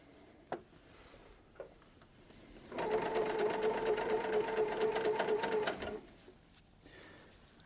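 A sewing machine runs for about three seconds, stitching a jumper sleeve at a steady rapid rhythm, close and clear, with a few soft clicks and handling sounds before and after.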